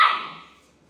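A dog at an animal shelter lets out one sharp bark that rings out and fades away, close and fairly loud with no talking.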